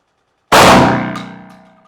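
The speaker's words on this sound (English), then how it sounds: "All right, number 4 is the first shot." A shotgun fires a number 4 shot shell in a single sudden, loud blast, followed by a long ringing, metallic decay that fades over more than a second.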